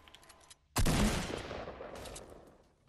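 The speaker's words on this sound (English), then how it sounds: "I heard the rocket explosion" A sudden loud rocket launcher explosion in a Fortnite-style shooter game, a sharp blast that cuts off a quiet stretch and then decays over about two seconds, with a second burst of crackle as it fades.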